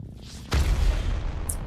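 A single deep cannon boom from a video game hits abruptly, followed by a rolling low rumble that fades over the next second, with a faint high chime at the end.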